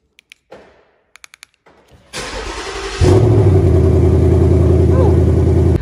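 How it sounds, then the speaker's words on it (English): Cold start of an orange Ford Mustang: a few clicks, then the starter cranks and the engine catches, settling into a loud, steady, rumbling idle close by. "Cold start."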